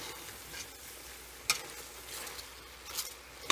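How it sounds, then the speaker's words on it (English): A stainless steel spoon stirs cabbage in a pot over a steady sizzle, with a few brief sharp scrapes and clinks of metal against the pot. "I'm gonna give it a stir so it won't be that hard"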